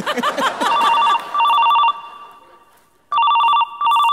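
A telephone rings in repeated trilling bursts, first under a voice, then pausing briefly before ringing loudly again.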